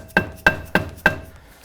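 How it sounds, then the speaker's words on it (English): Four evenly spaced, solid thuds with a slight metallic ring as a dead blow hammer strikes a stuck brake rotor on a 2018 Daytona with Brembo brakes, struck in a steady rhythm, close and fairly loud. "we're gonna try to use the dead blow hammer and see if we can get it off with that"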